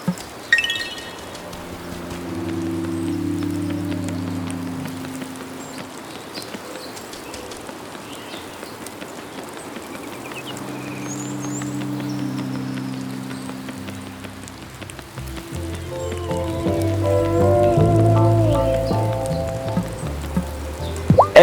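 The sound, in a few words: rain falling in the video game Wylde Flowers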